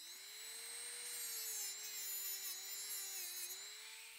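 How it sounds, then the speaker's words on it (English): A Dremel rotary tool cuts through a needle at a model-ship workbench, giving a steady, close, high-pitched whine that holds for about four seconds with slight wavers in pitch and no talking. "we're going to cut it off with a Dremel"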